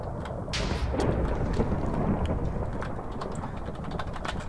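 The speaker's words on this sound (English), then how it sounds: "Follow the thunder." Thunder in a Hunger Games video game: a steady, heavy rumble with a sharp crack early on, then continuous rolling noise and faint ticking like rain throughout. No voices.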